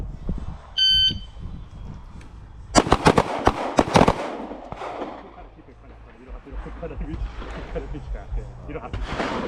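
A shooting-range low-light pistol drill: a short electronic buzzer beep starts it, then a rapid burst of several loud, close pistol shots follows, and afterward comes ambient range noise with people talking.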